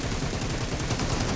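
Rapid automatic gunfire in the mobile shooter BGMI, a dense loud burst of rounds fired close, with no talking.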